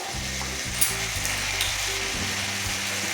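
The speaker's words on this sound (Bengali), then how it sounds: "আবারও সব কিছু উপকরণ ভালোভাবে কষিয়ে দিচ্ছি" Chicken and fried potatoes sautéing with spices in a pan, a steady close sizzle with soft scraping stir strokes, no voices.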